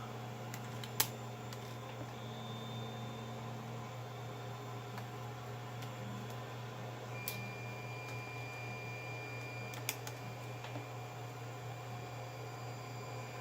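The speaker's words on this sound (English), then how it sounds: "I've got my printers going in the background right now" Several 3D printers run in the background as a faint, steady mechanical hum with fan drone and occasional small clicks, with no one talking.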